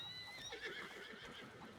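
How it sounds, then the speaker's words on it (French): A horse in a video game gives a bright, wavering whinny over faint background ambience, with a few soft hoof clops and no talk. "Logan, le cheval est là."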